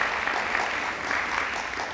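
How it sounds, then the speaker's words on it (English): An audience claps for a group of sixteen young students standing up to be recognised at a piano recital event, an even, sustained wash of applause with no break. "give them a round of applause"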